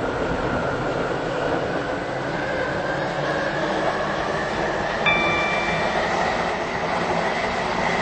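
A passenger train on a service to Newry runs steadily along the rails, with loud continuous rumble and wheel noise, a brief high squeal partway through and no talking.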